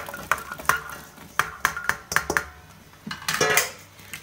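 Chopped rhubarb goes into a pot of boiling water on the hob for stewed rhubarb wine, with a string of close metallic clanks and knocks against the pot and a soft rushing near the end.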